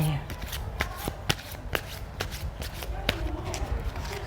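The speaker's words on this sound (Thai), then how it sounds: "เดี๋ยวเรามาดูมาสลับไพ่ทั้งหมดอ่ะหกใบนะคะ" A deck of tarot cards is shuffled up close, giving a soft papery riffle with several sharper snaps and flicks along the way, while someone speaks quietly over it.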